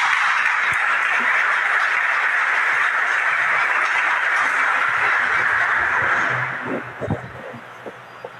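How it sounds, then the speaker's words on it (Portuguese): A church congregation at Sunday Mass gives a sustained round of applause, a thick even patter that holds for several seconds before stopping abruptly, leaving a few scattered sounds. "Vamos acolhê-lo com a salva de palmas."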